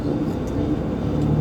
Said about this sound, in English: There's another big truck, always passing right beside me.